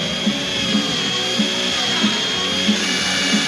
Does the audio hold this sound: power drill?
yes